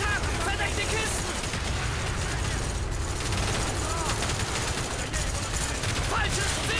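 In Call of Duty Black Ops, dense gunfire and machine-gun bursts crackle continuously amid game noise, with voices shouting in German over the shooting.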